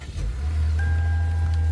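Lexus IS engine starting: a brief starter whir gives way to a steady low idle rumble, with a thin tone rising partway through.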